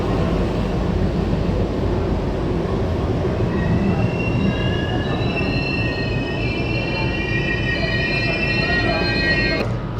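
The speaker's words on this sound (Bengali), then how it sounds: "অবশেষে ট্রেন এসে পৌঁছালো তার ডেস্টিনেশন পাটনা" Duronto Express train from Shalimar pulling into Patna station, loud rumbling wheels with long high metallic squeals of braking across the whole stretch, a faint voice underneath.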